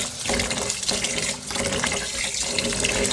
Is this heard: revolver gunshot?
no